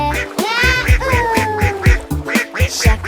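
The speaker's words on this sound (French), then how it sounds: "tous les canards criaient" Cartoonish ducks quack in a rapid, rhythmic run over a steady musical bed, the loud repeated calls bunched close together with no voices speaking.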